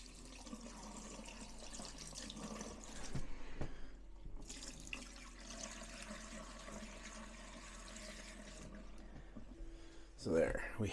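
Liquid antifreeze poured into the drain traps of a Rockwood RV's sinks during winterizing, a quiet steady trickle and gurgle with faint handling noises and a voice speaking briefly near the end.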